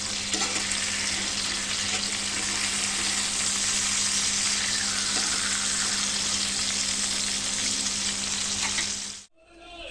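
Katla fish pieces fry in hot oil, a loud, dense, unbroken sizzle close up that carries on evenly for nearly ten seconds before cutting off abruptly.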